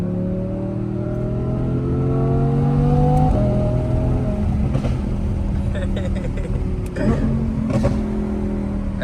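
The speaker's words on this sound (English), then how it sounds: "this is like the perfect amount of burble and everything" An Audi R8 Performance engine revs up with rising pitch, drops as the gear changes, then burbles and crackles through its exhaust. The sound is loud and close, with people talking over it.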